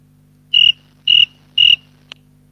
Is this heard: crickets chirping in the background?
yes